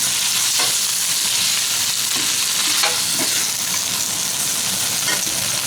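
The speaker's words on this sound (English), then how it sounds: "I'll give this a little mix." Pork cubes stirred in a hot frying pan, with a steady loud sizzle of frying and occasional scraping strokes of the spatula across the pan.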